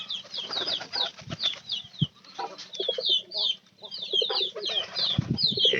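Chicks and hens at a poultry farm call in a busy chorus of high repeated peeps and chirps, with low clucks and a few thumps and rustles underneath, close to the listener.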